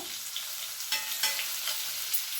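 Fish pieces frying in a shallow pan sizzle steadily and close by, with a few soft scrapes and clicks as the pieces are stirred and turned over.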